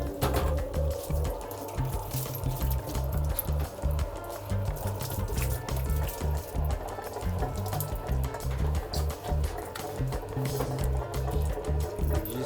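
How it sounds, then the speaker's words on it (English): Warm water sprays steadily onto a Bordoodle dog during a shower, a continuous close hiss and patter with a low pulsing rumble running underneath for the whole stretch. "Everyone's having a shower today with Bowie."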